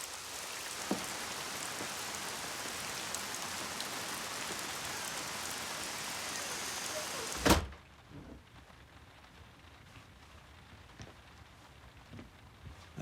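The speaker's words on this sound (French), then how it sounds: "Ne restez pas sous la pluie." Steady rain falls loudly and evenly for several seconds, then a door closes with a sharp thud and the rain drops to a faint muffled hiss indoors, with no speech.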